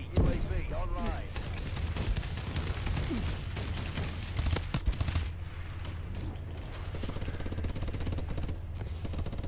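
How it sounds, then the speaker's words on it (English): Heavy bombardment in Call of Duty: Advanced Warfare, a friendly bombing run that rolls through as a dense stream of booms and crackling blasts, with gunfire and game voices over it throughout. "Friendly bombing run clearing the way."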